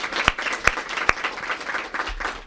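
An audience at a mayoral school-extension announcement applauds for community members, a dense steady burst of clapping with a few sharp louder claps standing out, filling the whole moment without talk.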